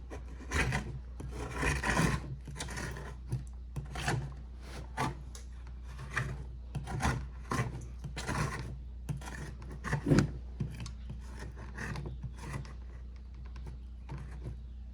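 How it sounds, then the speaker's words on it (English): Paint being scraped into piles on a palette with a palette knife: repeated dry rasping scrapes in short irregular strokes, close and moderately loud, with no one talking. "I tend to kind of scrape them into like piles, and then I'll just wipe up the pile with the rag"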